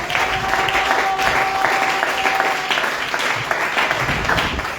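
A church congregation breaks into sustained applause for the Lord Jesus Christ, a steady full wash of many hands clapping at close range with a few voices and a faint held tone mixed in.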